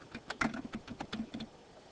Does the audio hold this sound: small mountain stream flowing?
no